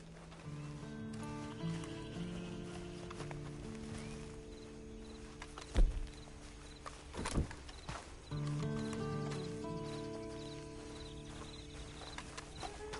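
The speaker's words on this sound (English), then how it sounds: "And you better get on this horse." Horse hooves clip-clop at a steady walking pace in the video game Red Dead Redemption Online, fairly quiet, with a couple of sharper thumps and a faint musical hum in the background.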